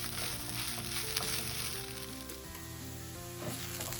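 Onions and celery for stuffing cook down in a pan with a steady, close sizzle and occasional light stirring scrapes, continuous and even throughout, no talking.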